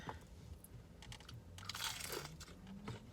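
Close, crisp crunching of a crunchy snack dipped in dip and chewed, repeated bites sounding alone at low volume with no talking.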